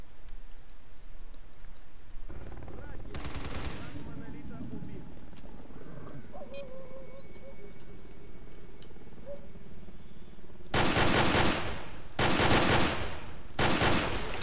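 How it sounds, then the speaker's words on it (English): Bursts of gunfire in the video game S.T.A.L.K.E.R. Call of the Zone, set in the Cordon: one short loud volley early, then three rapid automatic bursts near the end, with muffled in-game ambience between. "I should probably shoot them first"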